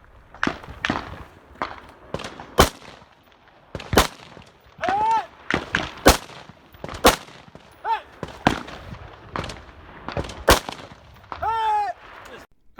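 Rifle shots are fired at targets during a Black Rifle shooting match: several sharp cracks at irregular intervals, with shuffling and rustling between them and some brief ringing tones.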